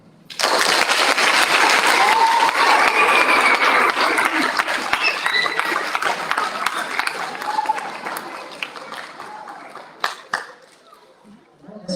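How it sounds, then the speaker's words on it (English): Audience applauding a speaker at a talk, a dense sustained burst of clapping that holds steady for several seconds, then thins and tapers off toward the end. "Let's give Cheryl another round of applause."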